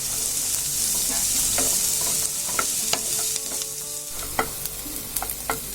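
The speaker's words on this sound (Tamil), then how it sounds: "இந்த வெங்காயம் நல்லா வதங்குற மாதிரி வதக்கிக்கலாம்." Onions and curry leaves sizzle steadily in a hot pan, with a spoon scraping and stirring at intervals through the frying hiss.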